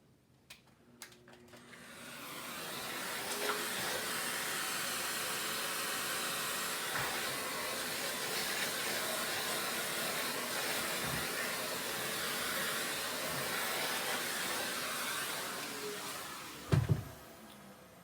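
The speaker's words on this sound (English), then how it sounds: "I'm going to vacuum the inside of this off." A vacuum cleaner starts up after a few clicks and drones steadily at close range, with a rattling knock near the end as the nozzle works inside a Boston Harbor floor fan.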